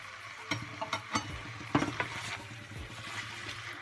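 Tomatoes and peppers are tipped into a pan of vegan peanut sauce for mafé, giving a low sizzle broken by several soft clunks and stirring scrapes of a utensil against the pan.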